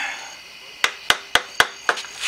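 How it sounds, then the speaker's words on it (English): Five sharp metallic strikes of a wrench used as a hammer while pulling the radiator and clutch fan from a 1.8T VW Passat, evenly spaced about a quarter second apart over a faint background hum. "using a wrench as a hammer"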